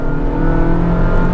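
A Honda WR-V engine revs up under light throttle, a loud steady drone from inside the car that holds for a moment.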